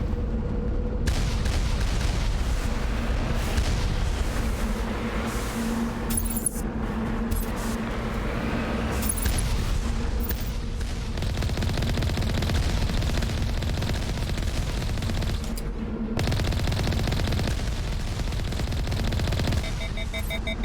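Sustained gunfire and explosions from the video game Mass Effect Legendary Edition, a dense, continuous barrage of shots and booms filling the whole stretch, loud and without talk.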